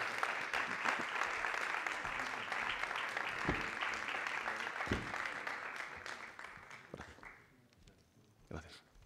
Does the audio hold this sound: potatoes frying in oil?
no